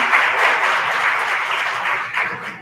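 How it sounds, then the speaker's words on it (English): Sustained applause from a conference audience at the Tolani International Conference, dense steady clapping welcoming a guest speaker, fairly loud and continuous throughout with a slight swell near the end. "I request all of you to join your hands and clap for him"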